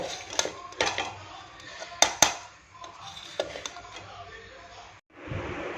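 A spoon scraping and knocking inside a cooking pot while biryani is mixed, with a few sharp metallic clinks among softer shuffling sounds, near and moderately quiet.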